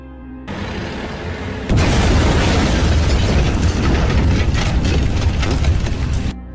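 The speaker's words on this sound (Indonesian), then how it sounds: "Tiba-tiba, mobil yang ditumpangi Sekar dan Kole meledak." A car blowing up in an Indian action film: a sudden heavy blast opens into a long, loud roar of fire and debris that stays dense until it cuts off.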